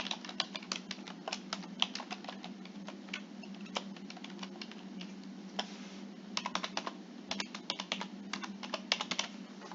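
Computer keyboard typing while filling in an online application, steady irregular clicking of keys up close, with no talk.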